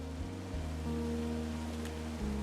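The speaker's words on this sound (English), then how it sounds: "It's a really nice waterfall down here." A waterfall in the game Firewatch gives a soft, continuous rushing wash, heard fairly faint beneath a low, steady ambient drone.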